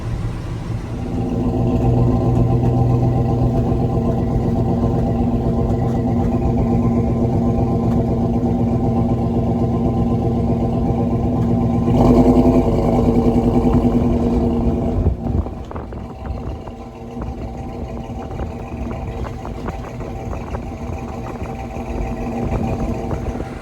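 Little Red Express truck engine humming steadily while cruising down the road, a continuous mid-pitched drone with road rumble, a brief louder surge midway before settling back; no talking.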